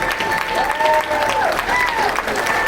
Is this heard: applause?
yes